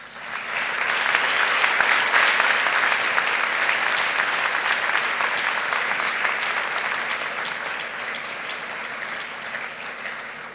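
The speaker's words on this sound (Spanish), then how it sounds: "yo creo que le podemos expresar un agradecimiento con un aplauso" A church congregation at a special anniversary service in Salou breaks into applause. The clapping is full and sustained, swelling quickly and then slowly tapering off without speech.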